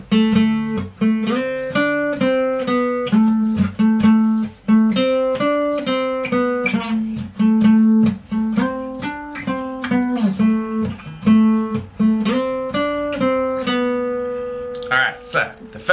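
Electric guitar plays the lead riffs of a song's verse, a steady run of clean, repeating picked notes with a clear pitched pattern, alone and loud throughout.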